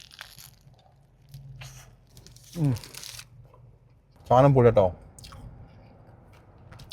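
A spicy shawarma is bitten and chewed with two distinct crunchy, tearing bites close to the microphone, separated by quiet pauses, while someone speaks briefly between them.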